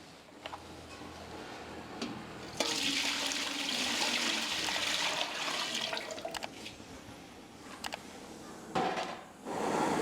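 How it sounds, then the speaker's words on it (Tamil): Water from ground palm pours and gushes steadily into a pot with a rushing hiss, close by, punctuated by a few clinks and knocks, ending with a brief clatter. "அரைச்சி வச்ச அந்த தண்ணியை ஊற்றிக்கலாம்"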